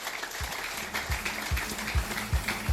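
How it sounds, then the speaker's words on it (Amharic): An audience at a church prophecy service claps in a steady rhythmic beat, loud and close, with a voice murmuring underneath. "አጨብጭቡ እስኪ"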